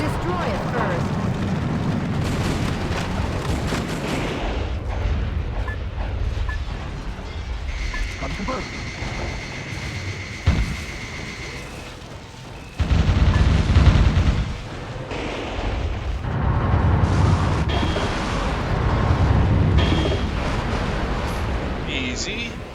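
Heavy explosions and gunfire batter an enemy communications facility in Metal Wolf Chaos, with rumbling blasts and a sharp impact partway through, then louder surging booms near the end, with talk over parts of it.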